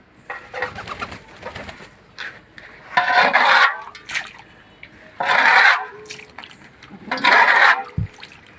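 Pigeons bathe in water, giving bursts of loud wing-flapping and splashing in clustered waves, with soft cooing and bird calls between them, close by and without talk.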